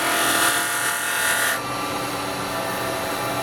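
Carbide chisel cutting a small resin bowl spinning on a woodturning lathe, a steady close hissing, rasping cut with a constant motor drone underneath, the cutting noise softening partway through.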